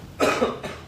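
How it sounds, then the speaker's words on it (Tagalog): A single short cough, close and abrupt, followed by a smaller second burst. "Ubo-ubo."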